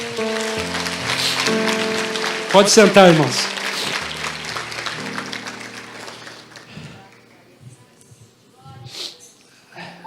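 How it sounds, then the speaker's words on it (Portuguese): A church congregation claps in a Baptist service, a dense burst of applause that fades over several seconds while a preacher speaks over it and a few voices and shuffles follow. "Vamos dar uma salva de palmas para o Senhor."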